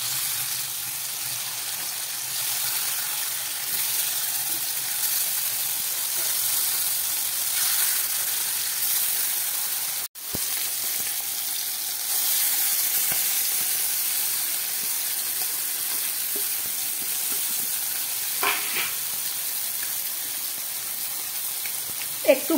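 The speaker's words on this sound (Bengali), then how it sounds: "এই তেলের মধ্যে আমি দিয়ে দিচ্ছি একটু জিরে ফোড়ন" Cumin seeds sizzle in hot oil in a pan while sea fish cooks for a Bengali dish. The hiss is steady and even, broken by one short drop near the middle and a few small crackles later.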